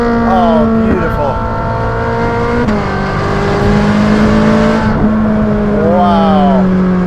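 A Ferrari 458 Speciale with a Novitec exhaust screams through rising revs close to the microphone, the naturally aspirated engine climbing in pitch with quick gear-change dips in between.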